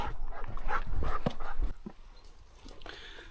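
A dog whimpers and yips close by during a pigeon hunt, giving short, high, strained cries with soft thumps over a few seconds before it quiets.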